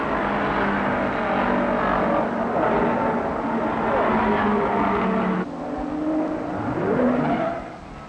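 Repco-Brabham racing cars roar around a circuit, loud continuous engine drone with a car audibly accelerating near the end as the pitch climbs and then fades.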